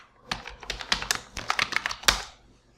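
Quick, uneven keystrokes on a computer keyboard as a password is typed, about a dozen close, crisp taps in a short burst, with no voices.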